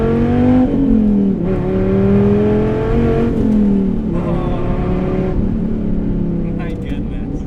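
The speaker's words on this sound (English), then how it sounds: "Nothing like that V10." A Dodge Viper ACR V10 with the Extreme Aero Package revs loud and close, its engine note climbing and falling through several surges over about seven seconds.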